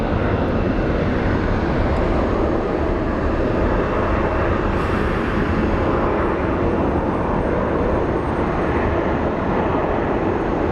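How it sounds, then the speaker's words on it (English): An airliner departs Phoenix Sky Harbor International Airport, its jet engines producing a loud, steady, broadband roar that holds throughout without easing. "Our Canyon Blue plane departing."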